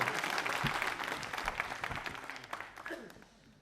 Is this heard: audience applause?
yes